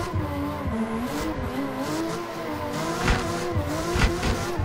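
A Mazda RX-7 drifting in a sim racing game, its engine revving in a steady wavering tone under continuous tire squeal, with bursts of louder skidding and acceleration, close and sustained.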